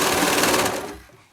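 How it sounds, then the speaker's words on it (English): A sewing machine runs in a fast, steady buzzing stitch along a toddler peplum bodice seam, then slows and stops within about a second. "I might dig in a little right here while I sew it"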